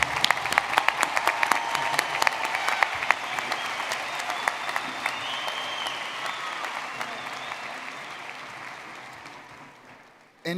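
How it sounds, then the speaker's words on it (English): An audience at a university commencement ceremony applauds steadily, dense clapping holding strong for several seconds before gradually thinning and fading near the end. "Please give a round of applause to the doctoral degree recipients."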